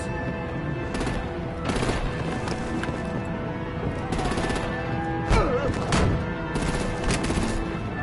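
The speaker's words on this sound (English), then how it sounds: "Bring out the artillery and disable their vehicles!" Artillery and gunfire in Batman Telltale Season 2, rapid bursts of shots and heavy blasts in repeated clusters, loud and close amid game clatter.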